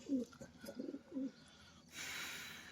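Pigeons coo in a short run of soft, low throaty calls close by, followed by a burst of broadband rustling or fluttering near the end.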